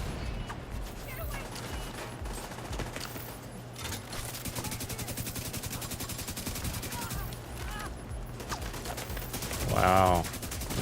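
Sustained automatic gunfire in The Division 2, dense bursts of rapid shots filling the scene with a brief louder surge near the end, no talk over it.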